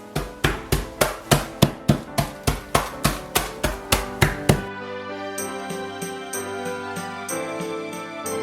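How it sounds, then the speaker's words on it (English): About a dozen light, evenly spaced knocks of a cooking mallet crushing Oreo cookies on a hard surface, then stopping while a soft jingling tone lingers. "she's gonna crush up those Oreos"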